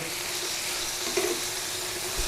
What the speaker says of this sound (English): If you like crispy bacon, fry it off as much as you like.